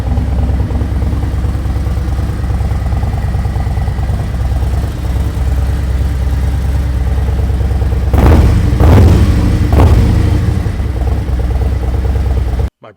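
A 2024 Harley-Davidson Road Glide fitted with Khrome Werks HP 4.5 mufflers idles close by with a loud, steady, lumpy rumble, then gives a few sharp throttle blips near the end before cutting off abruptly.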